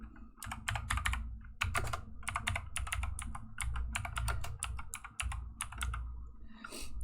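Rapid typing on a computer keyboard, close and fairly quiet, with bursts of key clicks separated by short pauses.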